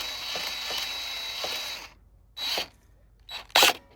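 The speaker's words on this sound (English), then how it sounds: "Ratchet that in there." A ratchet tightening hardware on a forest bridge under construction: a steady whirring rasp, then a few short, sharp clicking bursts after a pause, all close by.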